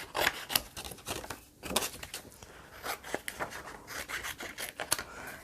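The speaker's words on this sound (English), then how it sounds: "I'm going to trim around this cardstock" Scissors trimming around a piece of cardstock, a close series of quick, irregular snips and papery rasps with no talking.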